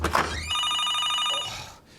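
An old-style telephone bell rings loudly for about a second after a brief thump, then stops.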